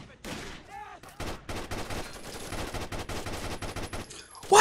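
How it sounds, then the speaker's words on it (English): Gunfire in Rainbow Six: Vegas 2, rapid bursts of automatic shots crackling in quick succession over several seconds, moderately loud, with a voice briefly heard near the start. "they're shooting at me"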